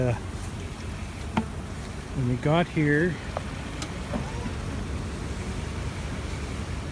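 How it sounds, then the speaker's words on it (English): Honey bees buzz around hive boxes nearby over an outdoor hum, with a few louder whining passes close by and someone talking briefly in between. "look at the bees in these boxes"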